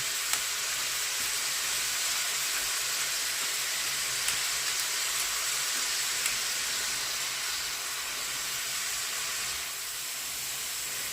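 Steady sizzling of cabbage frying in a pan over medium heat, a constant bright hiss with no pauses, close and fairly loud throughout.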